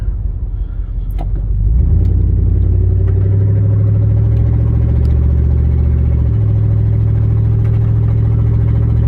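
A car with a faulty exhaust cruises through Chicago streets, its loud, deep, continuous engine rumble swelling after the first couple of seconds and holding steady, close and alone.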